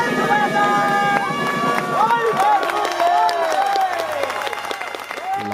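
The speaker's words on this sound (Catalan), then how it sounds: "tothom va començar a picar de mans i a cridar d'alegria" A crowd at a castell human tower event claps and cheers, dense steady applause with shouts, while musical tones glide over the top.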